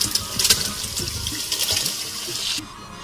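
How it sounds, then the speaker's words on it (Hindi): Water is poured into a cooking pot holding chickpeas for a Lahori halwa puri breakfast, a steady splashing flow close by that stops abruptly near the end. "चने मैंने डाले, थोड़ा सा पानी डाला है मैंने इस तरह से"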